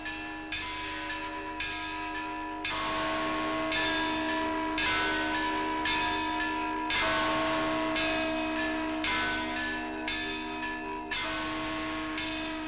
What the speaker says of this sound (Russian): Уже несколько лет идет работа над освоением традиционного искусства колокольных звонов, так называемой кишской технологии.